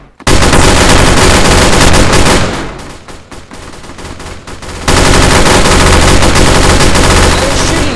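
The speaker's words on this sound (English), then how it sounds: "I was shooting you that entire time." Loud, rapid automatic gunfire from a Roblox shooter game crackles almost nonstop, dipping briefly in the middle before resuming at full intensity, close and dominant throughout.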